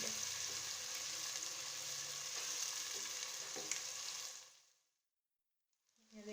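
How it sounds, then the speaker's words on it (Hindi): Chopped onions frying in a pan for a potato and egg curry, a loud steady sizzle with faint stirring scrapes that suddenly cuts out near the end. "और इन्हें बस हम लाइट सा ब्राउन फ्राई करेंगे।"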